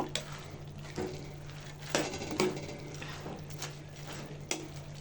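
Boondi being stirred into cooling sugar syrup in a pot, with soft scraping and a few sharp clinks of a spoon against the metal at irregular intervals, close and fairly quiet, with no talking.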